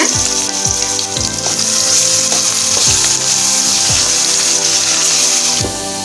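Whole spices such as cinnamon and cloves frying in hot oil, a loud, dense crackling sizzle with a series of sharp, regular metallic stirring or tapping strikes across several seconds, no talking.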